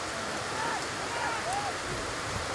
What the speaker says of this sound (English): Rain hasn't stopped